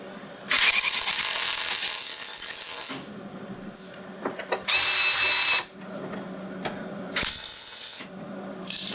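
A welder tacks a new driver's floor panel into a Triumph TR4 during restoration, with loud bursts of harsh buzzing crackle, three separate runs broken by quieter clicks and clatter.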